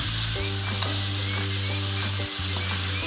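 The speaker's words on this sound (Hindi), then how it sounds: "देखिए हमारा चिकन अच्छे से फ्राई हो रहा है" Chicken frying in a karahi for street-style Peshawari charsi karahi, a loud, steady, close-up hiss and crackle of hot oil that runs unbroken throughout with no talk.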